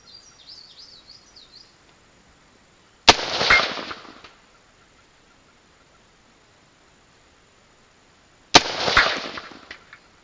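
An AR-15 rifle fires two loud, sharp shots about five seconds apart at a steel plate rack 300 yards away, each crack trailing off in a brief echo, with faint bird chirps before the first.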